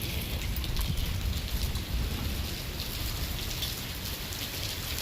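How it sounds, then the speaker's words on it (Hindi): Small hailstones falling with steady heavy rain during a village rainstorm in Silta, a dense, constant patter close by with no voices. "देखिए छोटे छोटे ओले गिरने लग गए यहाँ।"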